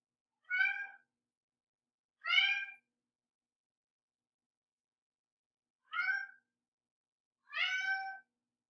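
Four distinct meows from a male house cat, close and clear, coming in two pairs separated by silence.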